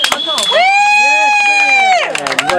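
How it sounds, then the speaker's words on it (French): Show audience in full cheer: one loud, drawn-out high shout or whoop rides over constant crowd noise, with scattered claps and shouts before and after. "un applaudissement, s'il vous plaît."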